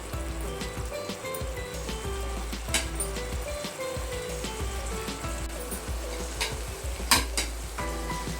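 Chopped chapati gets stirred into a hot gravy in a pan, making a steady soft sizzle with repeated scraping and clinking of a spoon against the vessel.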